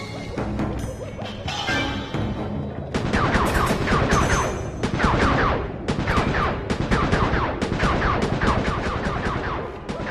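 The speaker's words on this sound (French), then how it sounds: "Fais attention avec ces feux d'artifice, Panda King." A dense barrage of loud fireworks bangs and crackling blasts in the video game Sly 3, set in China, rolls on almost without pause, layered bursts overlapping in a chaotic, continuous stream.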